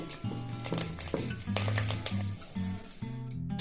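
Curry leaves and asafoetida sizzle in hot oil in a pan, a continuous bright frying hiss with crackles, close and steady, over a low droning hum and faint music-like tones.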